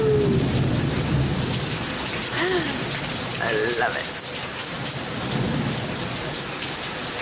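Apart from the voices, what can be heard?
rainfall with thunder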